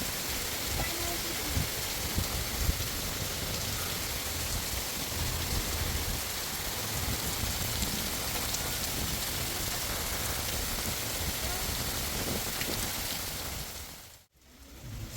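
Heavy rain pours at a beach resort in a dense, continuous hiss that fills the space, steady and loud, briefly cutting out near the end.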